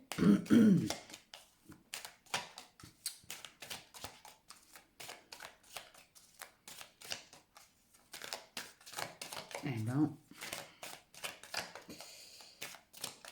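A deck of tarot cards is shuffled by hand in rapid, rhythmic riffles and soft slaps, close and fairly quiet, with a throat clearing near the start and another around the middle.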